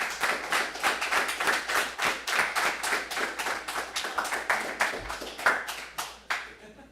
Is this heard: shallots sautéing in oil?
no